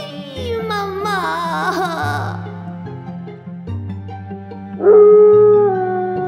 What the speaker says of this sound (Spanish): Cuando se convertía en lobo, aullaba y me sacaba los dientes